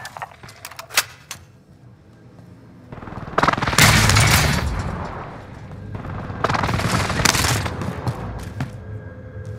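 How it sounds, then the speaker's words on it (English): Video game precision airstrike explosions: a few sharp distant pops, then a heavy booming rumble swelling and fading, followed by a second rolling wave of blasts, with no talk over them. "Enemy precision airstrike"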